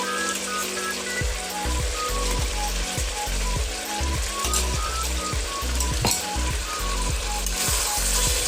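Ginger, garlic and chilli paste frying in a pan, a faint sizzle under a louder rhythmic ratcheting, mechanical clicking that repeats steadily throughout, with no talking.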